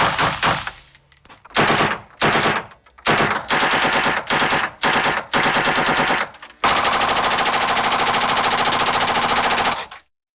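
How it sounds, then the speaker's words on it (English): Rapid automatic bursts from recorded Swiss long rifle, shotgun and chain gun fire, loud and close, in several short volleys separated by brief gaps and ending in one long sustained burst. "I used a Swiss long rifle and some shot and chain guns"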